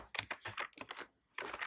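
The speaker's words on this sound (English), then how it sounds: "what we're gonna type in our terminal right here, we can pull it up to the middle, and we're actually just gonna type java-jar" Keystrokes tapped out on a computer keyboard while entering a terminal command on a Raspberry Pi 4, a quick close run of clicks with a brief pause before a final burst.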